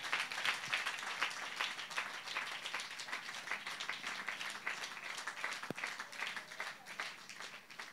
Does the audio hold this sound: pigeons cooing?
no